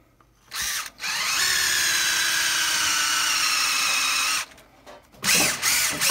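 A power drill with a steel bit whines steadily for several seconds drilling resin, starting and stopping briefly before the long run, then a few short bursts at the end.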